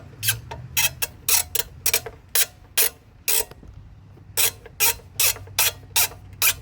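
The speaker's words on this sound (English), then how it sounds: "Now let's reattach the electric start with our 1/4 inch nut driver." A 1/4 inch nut driver tightening screws while reattaching the electric starter on an MTD snowblower gives quick ratcheting clicks in short bursts, with a pause partway through, close and fairly quiet.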